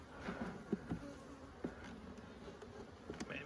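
Honey bees buzz around an open hive while a beekeeper works a nucleus colony outdoors, a faint, continuous droning hum with scattered closer buzzes and light clicks.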